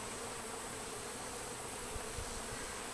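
A honey bee swarm hums in a dense, continuous drone, steady and fairly faint, with no voices over it.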